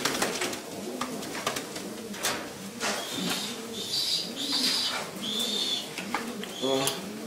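Pigeons coo repeatedly in soft, rolling phrases, with chirps and bird calls mixed in nearby.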